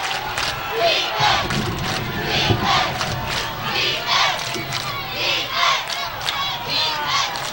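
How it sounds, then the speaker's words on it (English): Crowd yelling at a 2004 high school football game between Nevada Union and Napa, a loud, continuous roar of many voices in rhythmic surging shouts urging the defense. "Crowd yelling for the defense to step up."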